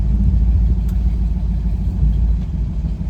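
A 1970 Dodge Challenger T/A engine under way, a loud, deep steady rumble heard from inside the car.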